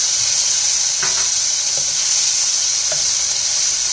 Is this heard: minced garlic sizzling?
yes